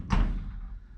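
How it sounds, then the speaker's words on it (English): On a Factory Five 35 Hot Rod Truck, a door clunks shut onto its latch with one low, solid thump, then a faint fading rattle as it pops back open. "fully latched, and that was like 0 effort, and the door pops open on its own."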